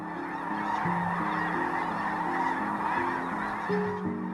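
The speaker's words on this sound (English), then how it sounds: "Every fall, thousands of sandhill cranes arrive in the California Delta" A large flock of sandhill cranes calls in the California Delta wetlands near Lodi in fall. Many overlapping rolling, honking calls form a steady, dense chorus at moderate distance, with no talking.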